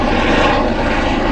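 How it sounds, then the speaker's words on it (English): A medical service helicopter passes over a park waterway in Bucharest, its engine and rotor roar loud, close and steady throughout, with no talking. "And we got a helicopter incoming."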